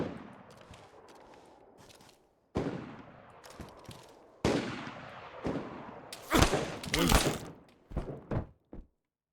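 Gunfire in the video game DayZ: several sharp, loud bursts arrive in separate groups, with a dense cluster of rapid shots near the end, and voices talking in between.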